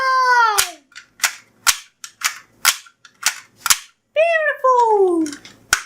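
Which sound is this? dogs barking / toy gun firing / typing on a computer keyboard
toy gun firing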